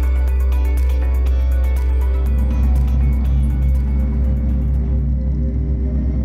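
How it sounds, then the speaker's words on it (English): Electric motors of an Audi e-tron GT run on a chassis dynamometer, producing a loud steady low hum with layered whining tones that shift and settle partway through, with no voices. "The motors run for the very first time on the chassis dynamometer."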